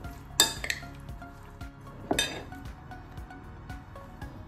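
Raw tomatoes are stirred with extra virgin olive oil in a bowl, two sharp metal clinks of a utensil against the dish amid soft, wet mixing sounds, close and fairly quiet.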